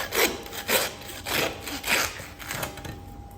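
A handsaw cuts through venison bone in steady back-and-forth strokes, about six rasping pulls at a regular rhythm, close and moderately loud with no talk.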